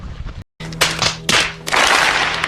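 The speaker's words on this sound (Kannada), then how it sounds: "ಹೊಡೀರಿ ಚಪ್ಪಾಳೆ." A group of people clapping their hands: a short burst, a brief silence, then louder, denser rounds of claps that swell into sustained applause close by.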